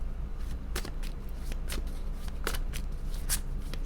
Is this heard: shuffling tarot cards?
yes